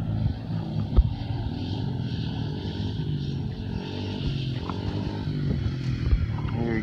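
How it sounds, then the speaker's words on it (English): Kids ride small dirt bikes, including a Suzuki DS90 and a Yamaha TTR50, around an open lot, their small engines buzzing and revving continuously at moderate distance with no talk. "Drake's peeling around on the DS90."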